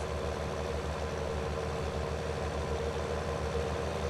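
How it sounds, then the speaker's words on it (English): A tractor engine idles in Farming Simulator 19, a steady low rumble with a regular throbbing pulse that holds at an even level throughout, with no talk over it. "it's steering the tractor down the road."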